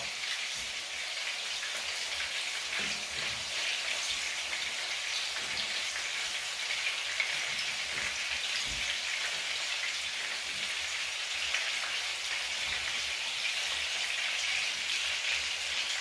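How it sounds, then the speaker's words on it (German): Toothpick kebab patties of minced meat fry slowly in fat, giving a continuous, even crackling sizzle close by that holds steady throughout without talk. "wichtig ist, nicht zu heiß das Fett, schön so langsam brutzeln lassen"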